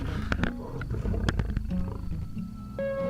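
A lion roars while holding a GoPro camera in its mouth. The sound is a loud, rough growling roar with sharp knocks and handling noises from the camera, and no one speaks.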